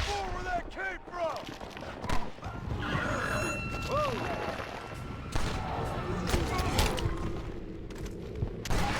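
Gunfire in Red Dead Redemption: Undead Nightmare, scattered shots in a busy game mix with horse whinnies and effects, partly under players' voices.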